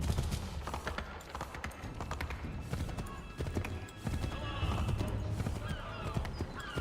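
A horse gallops in Assassin's Creed III Remastered gameplay, its hoofbeats driving steadily with a neigh mixed into dense game noise that runs throughout.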